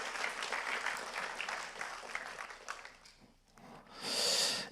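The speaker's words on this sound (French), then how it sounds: "On les applaudit." Applause at an awards finale breaks out, a dense wash of clapping from the crowd filling the room, dipping briefly before a sharper, brighter burst of claps near the end.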